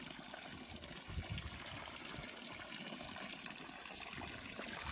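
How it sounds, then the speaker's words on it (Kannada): Jeevamrutha liquid fertilizer is poured slowly onto crops in a field, making a faint, steady trickle and splash of liquid running continuously under soft outdoor background noise. "ಜೀವಾಮೃತ ಈ ಥರ ನಿಧಾನಕ್ಕೆ ಹಾಕಬೇಕು"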